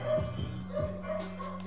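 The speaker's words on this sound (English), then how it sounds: "Doggy" A dog gives a few short, quick barks and yips close by, in a quick irregular cluster over steady background noise.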